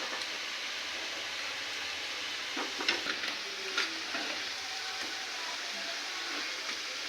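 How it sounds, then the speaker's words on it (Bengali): Fig fritters deep frying in oil until reddish, a soft, even bubbling hiss at moderate distance with a few brief crackles and clicks partway through, no speech. "এটাকে আমরা লাল লাল করে ভেজে নেব। একটু সময় লাগবে ভাজতে।"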